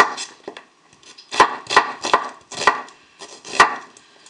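A Wüsthof Icon 20 cm chef's knife chopping an onion along the grain on a board, a series of crisp, close knocks in irregular rhythm.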